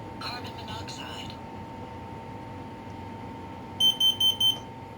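Kidde P4010DCSCO-W smoke and carbon monoxide alarm under test, sounding four sharp, loud, evenly spaced beeps near the end after a stretch of room noise with a steady hum.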